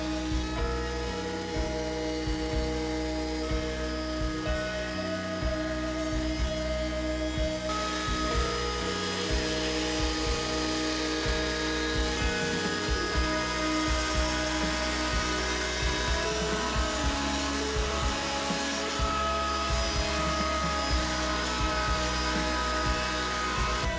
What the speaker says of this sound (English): Then over to the router table to put roundovers on the outsides of all the pieces.